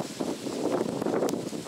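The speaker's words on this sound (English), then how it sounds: "So this wind's really kicking up" Wind gusts outdoors in a brief, soft rushing burst, buffeting with uneven swells and a bit of rustle.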